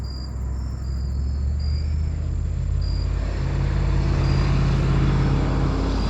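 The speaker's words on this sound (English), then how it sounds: "There's a truck coming" A truck rolls along a road close to a hunter's roadside deer-hunting spot, its low rumble swelling gradually and growing louder toward the end, with faint insect chirps in the background and no talking.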